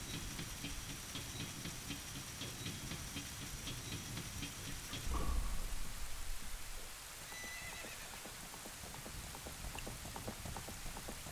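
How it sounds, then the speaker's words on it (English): Steady rain hisses across a scene in The Legend of Zelda: Ocarina of Time, accompanied by a horse's whinny and clip-clopping hooves, with a brief low thump partway through. "And of course it rains, because it has to, for cinematic effect."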